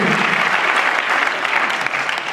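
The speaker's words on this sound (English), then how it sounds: "It's gonna keep give him another round of applause." Steady audience applause at a live stand-up comedy show fills the whole stretch, loud and continuous with dense clapping from a sizeable crowd and no voices above it.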